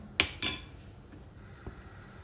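A spoon stirs a dal khakhra mixture in a pan, giving two sharp metallic clinks close together and a fainter clink a moment later, over a quiet background.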